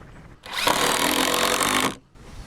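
A power drill drives a screw into a wooden goat trough without a pilot hole, one loud continuous whirring burst of about a second and a half, close by, with a brief follow-on buzz.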